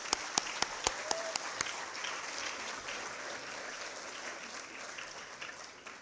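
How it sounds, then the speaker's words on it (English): Applause for students at a school's annual celebration, opening with several loud, sharp individual claps close by, then settling into a faint, continuous patter of crowd clapping from a large audience. "I think I'll also begin with a round of applause for the students for"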